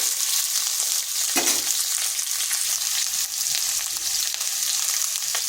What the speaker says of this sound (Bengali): আগে পটলগুলোকে ভেজে নেব।